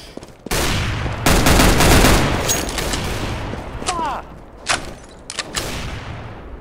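Rapid bursts of video game gunfire in a tactical shooter round, loud and close, crackling in fast volleys with a few sharp single shots afterward and faint talk beneath.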